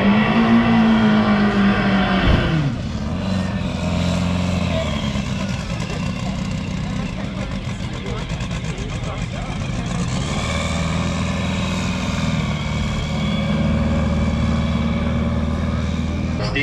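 Volkswagen-powered dragsters at a Bugorama drag race roar loudly and continuously, with an engine pitch shift early on and sustained racing noise throughout.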